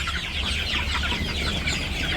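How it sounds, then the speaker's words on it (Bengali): Village farm chickens, a rooster and a hen, cluck continuously at close range, a busy overlapping chatter of fowl against steady background noise. "এটা হলো মুরগ আর এটা হলো মুরগি"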